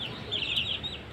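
A hen gives a short, close burst of clucking, a single brief call over quiet background noise.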